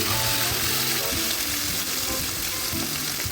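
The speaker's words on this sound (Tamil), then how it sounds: "நல்லா இது கேஷ்யூ நட்ஸ் ஃப்ரை ஆகட்டும்." Cashew nuts frying in oil in a pan, a steady, dense sizzle with faint stirring and a quiet hum of music underneath, close and continuous.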